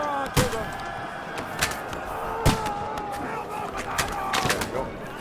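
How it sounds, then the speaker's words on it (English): Shots fired at a gate in Kingdom Come Deliverance 2, sharp isolated cracks and thuds spaced irregularly about a second apart over a steady battle ambience with distant voices. "I think I'm just shooting at the gate."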